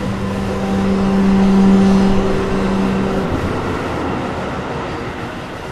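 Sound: train passing at a railway crossing

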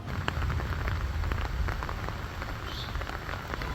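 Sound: heavy downpour of rain with gusty wind

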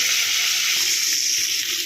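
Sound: bhetki fish frying in a pan

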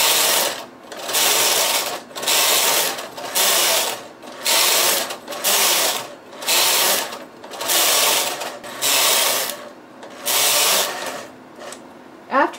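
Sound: knitting machine doing multiple lace transfers

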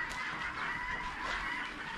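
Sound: chickens clucking in a park enclosure

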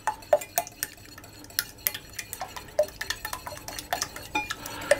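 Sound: whisking hot milk into eggs in a bowl

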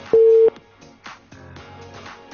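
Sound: telephone busy signal after the call drops

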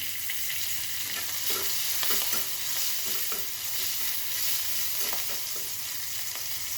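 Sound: chopped chili and garlic frying with vegetables

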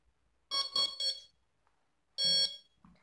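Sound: RC plane motor beeping three times on connecting a 3S battery

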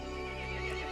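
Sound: horse whinny in video game Resident Evil Village

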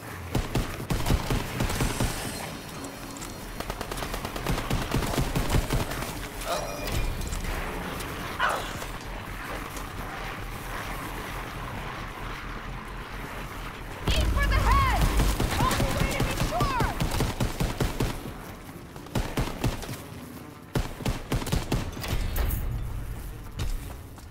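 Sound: grease gun firing in WW2 zombies video game

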